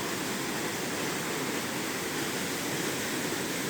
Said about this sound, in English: Kind of a hidden waterfall, you know, you wouldn't know it's there unless you just hiked up this.